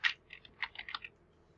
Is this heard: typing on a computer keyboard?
yes